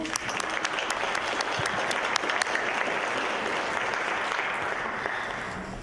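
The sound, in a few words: audience applause for two people called on stage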